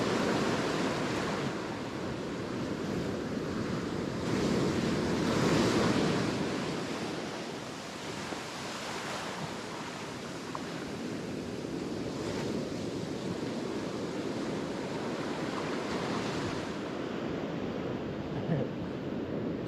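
Ocean surf breaks on an Australian beach during salmon fishing, a steady roar of washing waves with swelling surges, mixed with gusty wind noise against the microphone.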